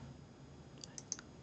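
Mouse clicks on a computer while a report is selected for download in facility evaluation software, three light, crisp clicks spaced about a beat apart over faint room hum.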